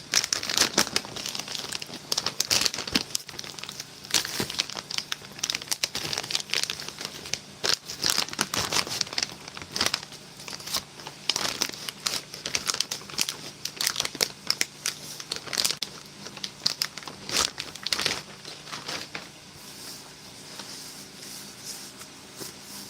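A taped-up plain white cardboard box holding a 2019 Russian winter 24-hour ration is handled up close, giving dense bursts of crinkling, rustling and scraping that ease off toward the end.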